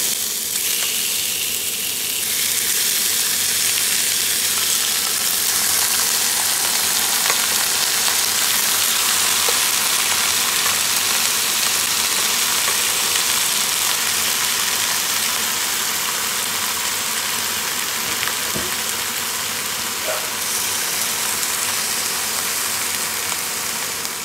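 Beef added to a pan of browned onions fries with a loud, constant sizzle and hiss that runs unbroken throughout, with no talking over it.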